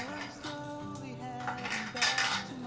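About fourteen oil rubbed bronze curtain rings, roughly two inches across, clinking and ringing as they slide onto a rod, a cluster of bright metallic jingles with lingering tones, close by.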